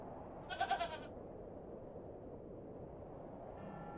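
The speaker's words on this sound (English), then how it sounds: "I'm not fond of goats at the best of times, but this one seems particularly disagreeable." A single short goat bleat in a video game, The Excavation of Hob's Barrow, rises briefly over a low steady background hum, followed by quiet ambience.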